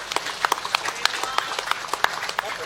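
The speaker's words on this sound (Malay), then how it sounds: "Tepukan gemuruh buat beliau." Crowd applause at a Malaysian political rally for a young candidate, scattered loud claps ringing out in an uneven rhythm over a noisy outdoor crowd, with a voice over a loudspeaker in the background.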